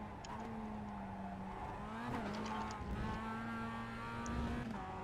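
A Mazda MX-5 race car in iRacing at Lime Rock revs hard through a chicane and curbing, its engine note climbing and dropping with gear changes, and brief tire squeal near the end.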